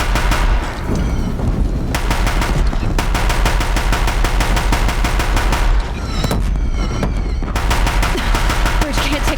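Deathbringer machines in Horizon Zero Dawn fire nonstop on a bridge, a loud, dense stream of rapid mechanical gunfire with heavy thuds and brief breaks, close and overwhelming throughout.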